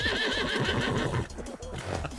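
A horse neighs in a long, shaky whinny in Fall Guys, loud and close, followed by a brief softer snort-like sound.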